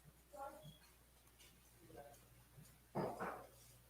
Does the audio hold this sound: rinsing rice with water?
no